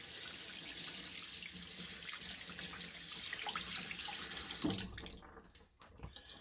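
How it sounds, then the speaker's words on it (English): Hot tap water runs steadily from a faucet through a shaving brush at close range, a continuous rushing splash that cuts off after about five seconds, leaving a few drips and small handling sounds. "Just get some hot water run through it, or warm water."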